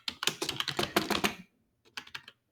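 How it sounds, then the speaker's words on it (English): Typing on a computer keyboard while entering a pip install command in a terminal: a quick close run of clicky keystrokes, a short pause, then a few more taps. "We are going to install it on our terminal by typing in pip"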